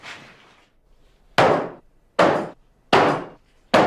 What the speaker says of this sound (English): I've only hit this shield a dozen times, but it's pretty well blunted the edge of this sword.